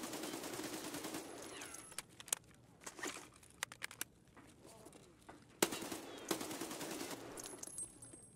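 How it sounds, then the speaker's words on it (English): Gunfire rings out inside the Factory map of Escape from Tarkov: scattered sharp shots and short bursts crack at irregular intervals, some near and some more distant, over low ambient rumble. "He's shooting now."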